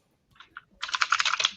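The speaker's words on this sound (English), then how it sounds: "He's typing at him right now." Typing on a computer keyboard during an online meeting, a few scattered keystrokes followed by a fast, steady burst of clicking keys, close and fairly soft, with no talk over it.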